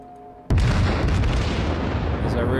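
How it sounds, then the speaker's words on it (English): A naval gun salvo in the game World of Warships from a Kongo-class battleship: a sudden heavy boom kicks in and rolls on as a long, dense rumble, loud and close, with a voice faintly present beneath. "Start putting some more shells on him."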